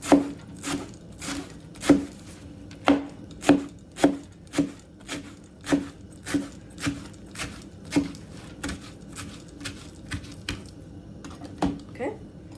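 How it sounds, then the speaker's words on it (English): A knife chops washed cilantro on a cutting board in a steady run of about twenty crisp, evenly spaced strikes, close up and clear with no talking over them. "here this is just how you're gonna cut your cilantro, like this."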